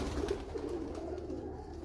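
Teddy pigeons coo softly nearby in a low, murmuring burble over a short stretch.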